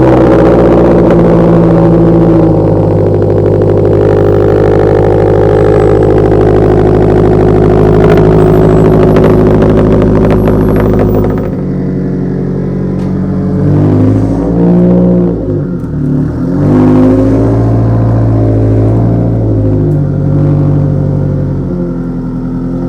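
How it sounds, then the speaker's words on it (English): A Subaru WRX STI engine starts and idles loudly at close range, then the revs shift and rise as the car is driven and turned around, with steady mechanical rumble throughout. "I'm gonna go ahead, start this up, turn the car around"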